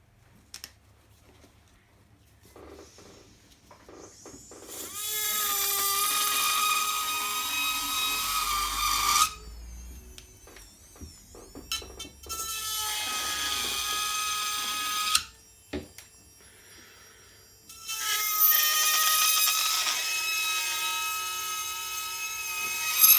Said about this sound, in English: I'm just going to use a cutter to get that off